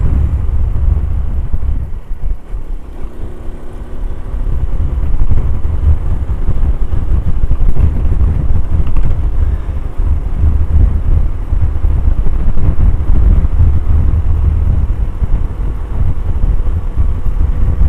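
Honda Cub C90 motorcycle engine running steadily in top gear on a Cotswolds road, a continuous loud low drone with wind buffeting the microphone throughout.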